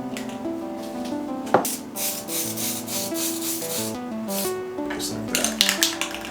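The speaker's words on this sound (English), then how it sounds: "I'm going to sand this off a little bit." Hand sanding on a wooden craft project, steady back-and-forth rubbing strokes close up, with light scrapes and a few sharper knocks near the end.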